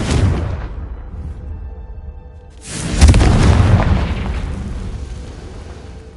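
A Confringo spell blast in the Hogwarts Legacy video game: a loud booming explosion hits midway, following a fading earlier rumble, then rolls off into a long decaying roar.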